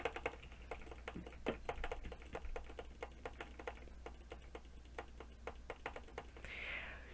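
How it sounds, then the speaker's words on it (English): Rapid computer mouse clicking during a Minecraft Bedwars session, a steady stream of sharp, close clicks in quick alternating rhythm, fairly quiet over a low background hum. "you might have to click your mouse kind of hard"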